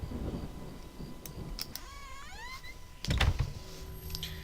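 Rolling thunder rumbles through a rainy night scene in a horror adventure video game, low and heavy, with a louder crack-like swell near the end amid steady rain-like hiss and a brief whistling electronic tone.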